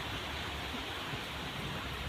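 Steady rain falling outside, a soft, even, continuous hiss heard from a distance with no talk over it.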